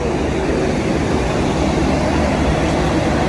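A Bangladeshi passenger train runs at night on the Pangsha to Faridpur line, a loud, steady, close rumble of wheels and carriages with no pauses or talk.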